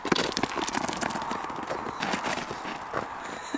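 A hyper dog runs on a hard floor while playing fetch, its paws drumming in quick, irregular gallop-like patters close by, loud at first and then continuing at a moderate level.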